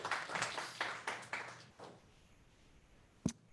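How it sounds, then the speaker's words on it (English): Applause and clapping from a seminar audience for a presenter, a burst of claps in the first two seconds fading out, then quiet room tone with a single sharp knock near the end. "Let's give Gil a round of applause."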